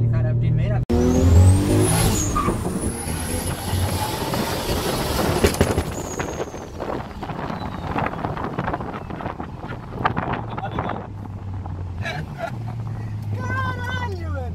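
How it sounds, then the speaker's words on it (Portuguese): A BMW M Supra's engine runs steadily with a low droning hum, accompanied by wind buffeting the microphone and people talking nearby. "Esse motor é um absurdo."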